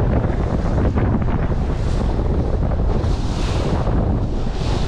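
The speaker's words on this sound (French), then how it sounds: "le vent s'est levé" Strong wind buffets the microphone on a boat at sea off Frontignan in continuous rough gusts, with a broad roaring rush that swells and eases throughout.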